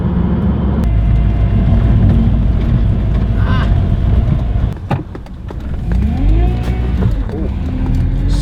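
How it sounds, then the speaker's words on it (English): A Mazda Miata with a swapped 2.5-litre engine revs loudly and continuously close by, its tires spinning, with a brief dip in the drone midway before it rises again. "So torquey it spins tires."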